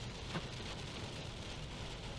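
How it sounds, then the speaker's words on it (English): Heavy rain pounds a car while driving, producing a steady, even hiss with no voices. "Look at this rain."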